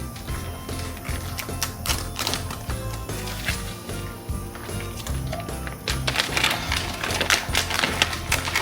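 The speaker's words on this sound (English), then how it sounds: "We're gonna add the rice." Dry rice poured into a skillet on the stove gives a rapid, dense clatter of grains. A brief pause comes midway, and then a louder burst of pattering and scraping follows.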